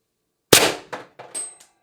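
An IntruBuster Gen 2 launcher fires at 800 PSI, giving one sharp, close pneumatic crack followed by a few quick mechanical clacks in otherwise quiet surroundings.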